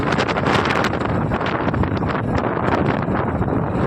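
Wind rushes and buffets across the microphone in continuous gusty bursts, close and fairly loud, with no voices.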